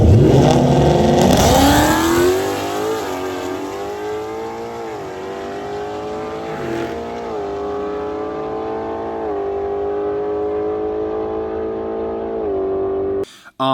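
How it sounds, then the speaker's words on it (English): A Ford Mustang GT with a 10-speed automatic accelerates hard at a track, its loud V8 roar sweeping upward through several quick gear changes before settling into a sustained high drone and cutting off abruptly. "I'm going to throw in a clip of this car at the track ripping."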